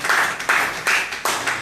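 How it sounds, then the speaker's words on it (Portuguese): A church congregation claps together in praise, three or four loud bursts of applause following one another in a steady rhythm, close and filling the room. "Vamos dar uma salva de palmas para Jesus."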